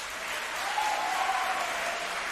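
Crowd applause, a steady wash of clapping at moderate loudness that holds for a couple of seconds.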